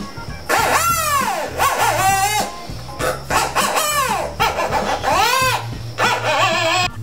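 A ventrilo voice thrower, a small mail-order toy made of two metal pieces wrapped in ribbon, is blown through to make a series of loud, swooping, squawking calls that sound like a crowing rooster, about five in seven seconds.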